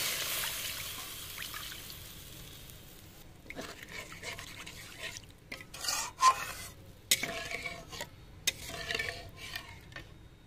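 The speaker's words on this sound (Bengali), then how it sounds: "এবার এতে অল্প করে একটু জল দিয়ে দেবো।" Water poured onto sautéed spice masala in a pan for a fish curry: a quiet sizzle, then irregular bursts of bubbling, splashing and stirring.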